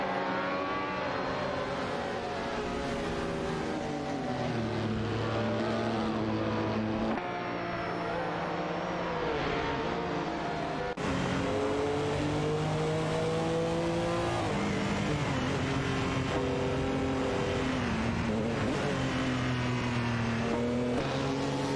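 Race cars roar around a track in an AI racing video game, engines droning and shifting pitch steadily throughout, loud and continuous with no talk.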